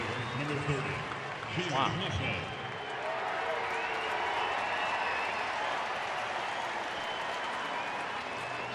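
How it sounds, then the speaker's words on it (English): A baseball crowd at an Angels game applauds an injured player after a great play, broad sustained clapping and crowd noise filling the stadium, with a brief spoken exclamation near the start. "he's getting a well-deserved ovation from the crowd"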